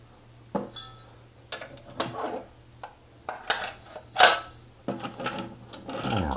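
A slicer drum attachment being fitted onto a stand mixer, heard as a handful of separate plastic and metal clicks, clunks and one sharp rattle, close and fairly quiet, with no talk.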